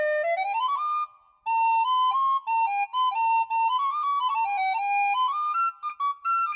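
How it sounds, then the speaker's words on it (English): A WARBL digital tin whistle plays a bright, pure melodic line with clear harmonics, stepping between notes with a short pause near the start, close and steady with no talking. "here's the tin whistle sound."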